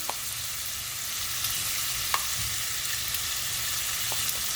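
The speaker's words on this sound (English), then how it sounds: "they're very, very thinly sliced, but you want to get a nice little sear on there." Very thinly sliced beef sears in a pan for fried rice, giving a steady, even sizzle up close with a few faint clicks of the pan, and no voices.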